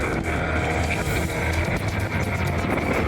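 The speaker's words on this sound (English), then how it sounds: "Fortunately, the motor is still going." Outboard motor on an inflatable rescue boat running steadily at sea, still turning despite a kite line wrapped around the engine, with a continuous drone mixed with wind and water noise throughout.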